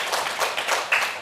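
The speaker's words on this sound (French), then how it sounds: "On va applaudir pour Dr Lamine Diarra-Souba." Brief applause at a live Islamic program in French, a handful of quick, close claps from a small group, uneven and fading within about a second.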